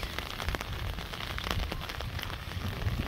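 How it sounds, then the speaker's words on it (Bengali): Heavy rain pours steadily onto a surface, a dense hiss with scattered sharp drop impacts throughout and no voices. "আমাদের এই দিক দিয়ে এত বৃষ্টি হইতাছে"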